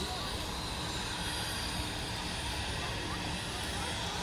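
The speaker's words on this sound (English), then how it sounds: "the chopper's going to leave now" A Royal Flying Doctor Service medical helicopter departs the Perth Royal Show showgrounds, its engine and rotor making a steady, loud, broadband roar throughout, with a person talking over it.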